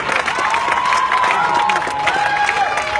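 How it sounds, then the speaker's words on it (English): Outdoor crowd at a Black Lives Matter protest rally at Springfield City Hall claps and cheers continuously, with whoops and shouts rising over the applause. "Keep that round of applause going"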